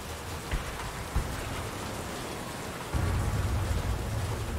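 Thunderstorm in the video game FEAR 3, with steady rain hissing throughout, a couple of sharp cracks early on, and a deeper rumble of thunder swelling in the last seconds.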